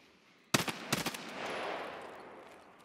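A sudden burst of rapid blasts in the video game Escape from Tarkov gives way to a long rolling rumble that slowly fades out.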